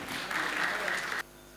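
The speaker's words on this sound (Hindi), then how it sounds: "जोरदार तालियों से।" An audience at a Hindi poetry recital breaks into a burst of clapping that lasts about a second, then stops abruptly.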